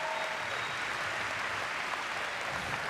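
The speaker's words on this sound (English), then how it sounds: "So give him a huge round of applause." A crowd applauds at a celebration for state champion basketball players, a dense and even roar of clapping that holds steady and fairly loud from start to finish.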